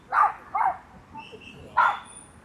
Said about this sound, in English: A little Jack Russell that is barking.